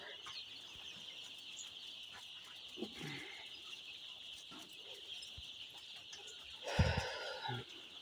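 Ten-day-old Sonali chicks chirp in a steady, high-pitched chorus throughout, with a few louder rustling bursts from handling or movement rising over the flock now and then.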